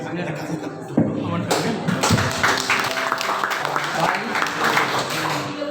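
Applause rises from a student audience at a school OSIS chair and vice-chair candidate debate, a burst of clapping starting about a second in and continuing under background chatter and shuffling.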